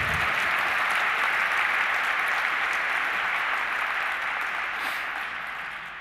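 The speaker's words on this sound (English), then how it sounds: "Give them a warm applause again." A graduation ceremony audience applauds the musicians, including a conga player, in a broad, sustained clapping that holds steady and then eases slightly toward the end.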